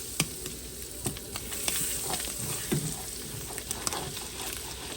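Four tablespoons of real butter melt in a pan for sausage gravy, sizzling with a soft continuous hiss. Scattered clicks and taps run through it, along with faint scraping, at a moderate, close level.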